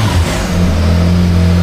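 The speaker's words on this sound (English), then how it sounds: "Still has the stock exhaust, but I can hear that turbo whining." Can-Am Maverick R side-by-side with an E85 upgrade kit and stock exhaust accelerates, its engine droning steadily with a turbo whine layered on top, loud and close without any talk.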